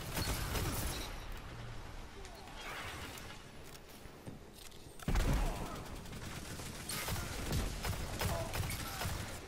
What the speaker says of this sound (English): Let's try this hand cannon out.